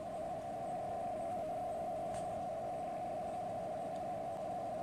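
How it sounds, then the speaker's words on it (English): Encrypted multi-frequency shift keying signals picked up on a VLF loop antenna, a steady warbling data tone held under a constant wash of hiss and static, continuous and fairly faint. "Anybody that listens to shortwave will have heard very similar signals with radio amateurs, except these obviously are all encrypted."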